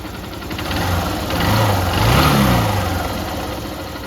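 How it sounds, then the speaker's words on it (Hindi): A Honda Shine motorcycle engine, fitted with a new cylinder kit and filled with 10W30 oil, runs close by on its right side, idling with a smooth hum that swells in a gentle rev and settles back down. "मैं आपको राइट साइड से भी इंजन के साउंड सुनाता हूँ।"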